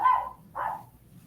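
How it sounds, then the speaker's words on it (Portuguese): A loose dog barks twice in quick succession, two short sharp bursts fairly close by with a brief pause between them and quiet background afterward. "Segura o cachorro, que ele tá solto."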